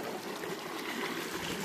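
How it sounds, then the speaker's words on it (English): Fresh, cold water trickles steadily beside an old cabin, a soft, even, continuous stream of gentle babbling. "Yep, nice fresh water."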